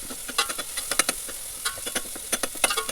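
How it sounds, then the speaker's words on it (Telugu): Chopped tomatoes frying in oil in a pan for a Telugu home-style annapakala curry, with soft continuous sizzling broken by scattered stirring scrapes and taps of a spoon, close and fairly quiet. "టమోటాను అంతా బాగా నూనెలో బాగా వేయించాలి."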